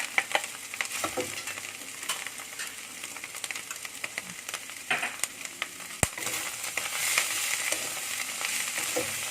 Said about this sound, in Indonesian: kita aduk rata ini sampai bawangnya wangi ya